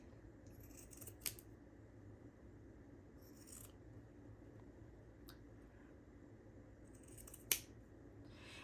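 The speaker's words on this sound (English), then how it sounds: "I'm going to hold it down and I'm going to start trimming." Scissors trim tassel threads in a few sharp snips spaced seconds apart, quiet and close over a low steady background hum, with no talking.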